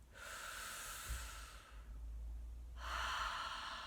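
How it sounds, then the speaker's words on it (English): Breathing in through the mouth as if through a straw: two long, soft airy inhales with a pause between, close and quiet, with no talking. "it's called straw breath because you're breathing through your mouth as if through a straw."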